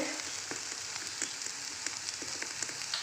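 Brinjal (eggplant) slices coated in masala shallow-frying in a pan, giving a steady close sizzle with scattered crackling pops throughout, no voices.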